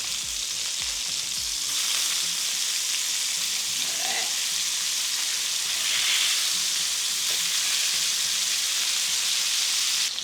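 Wagyu burger patties sizzle loudly and steadily on a grill for about ten seconds, a dense continuous frying hiss with a few faint scrapes as they are flipped, no talking.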